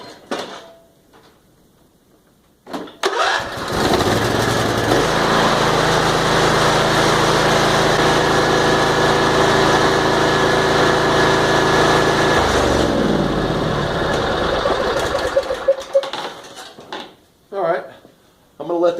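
A Craftsman or Husqvarna lawn tractor engine cranks and catches after a quiet start, then runs at a loud, steady idle for about ten seconds before cutting off, followed by faint handling noises.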